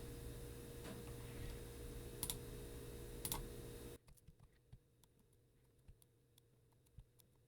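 Computer keyboard keys and mouse buttons clicked while working in Fusion 360 nesting software, heard as sparse, light, close clicks and taps over a steady background hum that drops away midway.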